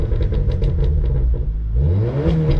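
A SEAT Leon Cupra engine rumbles loudly at close range, idling with a burbling clatter before revving up with a rising roar.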